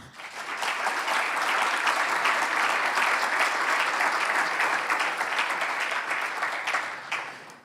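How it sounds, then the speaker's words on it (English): A conference audience applauds in a sustained, even burst of clapping lasting several seconds before tapering off at the end of closing remarks at ECMWF. "I think they deserve a round of applause."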